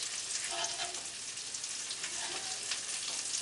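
Burger patties frying with blue cheese on top, a steady, close, bright sizzle with crackling spits throughout and no talking.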